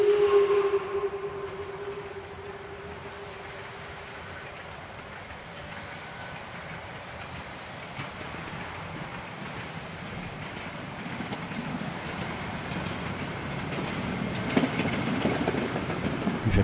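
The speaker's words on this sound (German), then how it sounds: "Kurz vor 3 Annenhohne quert Zug 8929 vom Brocken kommend die Landesstraße 100." A narrow-gauge steam train on the Harz Brocken line whistles briefly at the start, then its rumble and rhythmic wheel clatter build and grow louder as it approaches and crosses a road near Drei Annen Hohne station.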